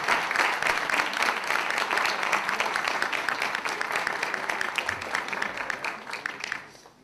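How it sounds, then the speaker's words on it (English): A big round of applause fills a room after a 99-second bank pitch competition, dense continuous clapping from a full audience that holds steady and then tapers off at the end. "Okay, another big round of applause."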